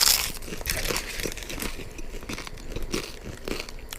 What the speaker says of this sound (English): you can even hear the crunch on that one.